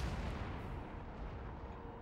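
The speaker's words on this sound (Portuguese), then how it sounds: "Meu canhão tá atirando ali contra eles." Video game cannon in Empire: Total War fires a deep, muffled boom that rolls through, heavy rumbling low end and a distant crack, with no voices.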